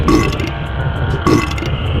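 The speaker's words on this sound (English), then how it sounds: "As Henry explores the hospital, packed with burping patients" Wet, gurgling burps from hospital patients in the horror video game Silent Hill 4, two loud belches about a second apart over a murky, rumbling ambient backdrop with no talking.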